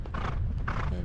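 An experienced event horse gallops over a cross-country course, two heavy thudding bursts of hoofbeats close by, with wind rushing past the rider.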